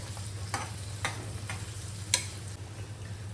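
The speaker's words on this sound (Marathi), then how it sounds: "ते सुद्धा आपण ह्यामध्ये टाकून हलकेसे रोस्ट करून घेऊया" Cashews and onions roasting in a pan give a soft, low sizzle under a steady hum, broken by a few sharp taps of a spoon against the pan.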